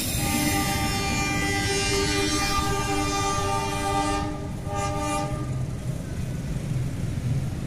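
A Merak local passenger train passes close by, its horn sounding in a long sustained blast over rolling wheel and carriage noise. The horn stops partway through while the rumble of the train continues.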